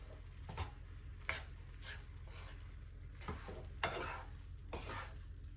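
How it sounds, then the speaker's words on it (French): Ramen noodles are stirred in a pan with sautéed vegetables and shrimp, giving soft, faint, irregular scrapes and clinks of a utensil against the pan over a low background hiss, each stroke brief and spaced apart. "je vais bien les mélanger aux légumes et aux crevettes"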